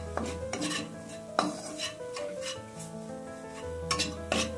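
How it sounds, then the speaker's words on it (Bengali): A utensil scrapes and stirs flour into fried garlic in a pan with a steady light sizzle, with repeated metallic clinks against the pan. "এর উপরে আমি দিয়ে দেবো একটুখানি ময়দা দিয়ে দেবো। ভালো করে নাড়িয়ে নেব।"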